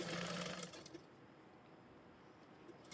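A sewing machine running a line of stitching on a small child's lehenga blouse, a close whirring burst at the start that then stops, leaving quiet room tone.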